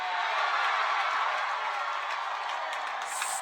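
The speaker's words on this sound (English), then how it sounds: "The crowd is going crazy." A live crowd cheers and applauds at a bouldering World Cup final in Vail, a dense, steady roar of clapping and shouting that holds at full strength throughout, with no talk on top.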